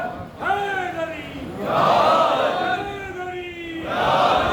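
A large devotional majlis gathering roars the slogan Haidari in unison in answer to a leader's call. Loud, close swells of massed voices rise twice and hold, each forming a sustained chant.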